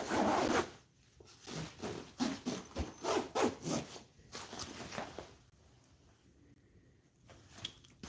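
A zipper on a gun carry bag pocket rasps open in a series of quick, close ratcheting pulls, followed by quieter rustling and handling of the fabric.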